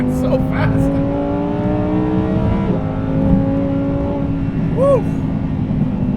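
A 2020 Lamborghini Huracan Evo accelerates hard through its gears at high altitude, the engine note climbing in pitch, dropping at each shift, and climbing again, with a person talking over it from inside the car.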